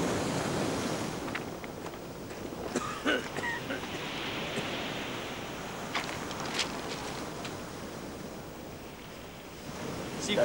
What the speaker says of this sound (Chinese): 呢度好大风啊